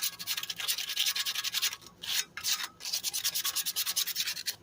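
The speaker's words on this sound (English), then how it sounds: "once I get this sander, get all this loose rust off" A power sander scours loose rust off metal MTD lawn mower parts, a close, steady abrasive rasp that pulses in a quick rhythm, with two brief pauses where the pad lifts.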